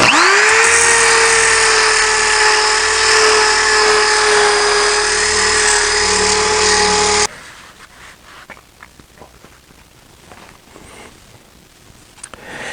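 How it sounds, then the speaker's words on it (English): A drill fitted with an orbital sanding pad gives a loud, steady whine with a sustained high pitch for about seven seconds, then cuts off, leaving faint scattered clicks and rustling. "It's an orbital sander too, but it's just one of those pads that you put on a drill."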